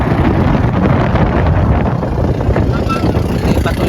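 Heavy wind at the coast in Calatagan, Batangas, rumbles and blasts against the microphone, a loud, unbroken turbulent roar throughout.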